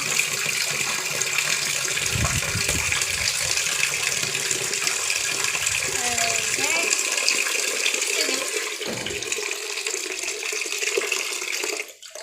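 A stream of water sprays and splashes steadily against a muddy motorcycle nearby, washing off the mud, then tapers and cuts off at the end.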